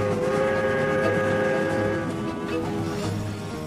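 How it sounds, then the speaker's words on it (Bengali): A train rumbles steadily as a sound effect in a crime thriller audio drama set around Waterloo station. The rolling rail noise stays loud and continuous, with sustained tonal hums throughout and no talk. "9:13 ট্রেনটা ধরলাম"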